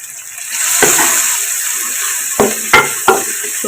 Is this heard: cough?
no